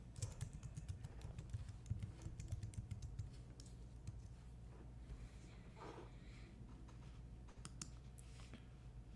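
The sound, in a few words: typing a description on a computer keyboard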